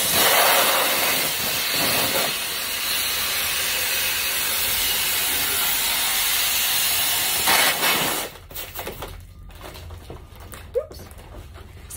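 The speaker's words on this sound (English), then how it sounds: "Now I'm gonna take my helium gun and I'm going to go ahead and inflate these" Helium gun inflating foil balloons: a loud, steady gas hiss runs for about eight seconds, then cuts off, leaving quiet handling noises and a couple of small clicks.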